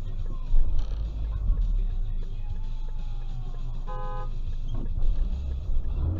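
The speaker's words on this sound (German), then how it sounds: "Das zweite Hupen kam hier zwar nicht vom Max" A short car horn toot rings out over steady road traffic and engine rumble, heard once clearly amid the passing vehicles, recorded by a dashcam.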